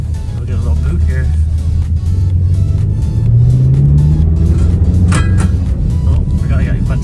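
A BMW X5 M, recently repaired and later leaking coolant, accelerates on a road; a loud steady engine drone with a rising pitch sweep as it pulls, heard from inside the vehicle.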